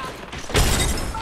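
A frag grenade goes off in a video game as a single loud blast about halfway through, rising from a low rumble into a broad crashing burst that holds to the end.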